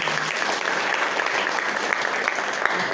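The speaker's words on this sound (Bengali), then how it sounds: "নিজেদের জন্য নিজের হাততালি।" An audience bursts into applause, a dense, close clatter of many hands clapping steadily for a few seconds without letting up.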